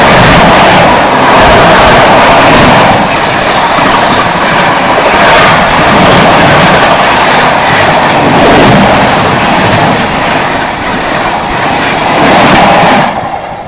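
Sanghamitra Superfast Express, the Danapur–SMVT Bengaluru train, rushing past very loud and close with a continuous roar of wheels and rhythmic clickety-clack of coaches for the whole stretch.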